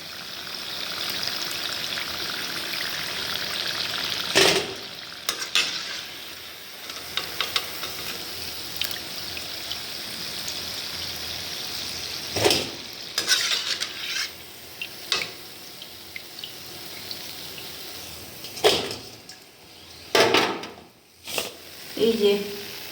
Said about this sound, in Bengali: আমের গুলগুলিগুলা লাল লাল করে ভাজা হয়েছে